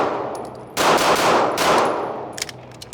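A Wilson Combat DIV 77 pistol with integrated compensator and ported barrel fires at a range, a loud sharp shot or quick pair of shots followed by ringing decay and faint clicks.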